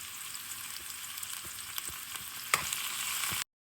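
Curry leaves hit hot oil with mustard seeds, sending up a loud, dense crackling sizzle with a few sharper pops, steady and close, ending abruptly.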